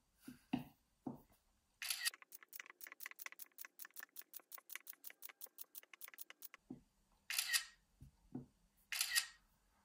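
Camera shutter capturing a new frame for a stop motion film, a rapid run of around twenty-five crisp even clicks, with a few louder bursty clatters before and after, close and quiet.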